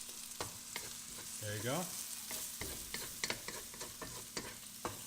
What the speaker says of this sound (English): The scrambled egg is done, so we can mix this with the garlic and onions